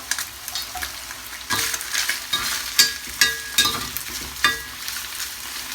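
A utensil stirs food in a hot frying pan on a stovetop, with a steady sizzle under a series of scraping and clinking strokes against the pan, close and fairly loud.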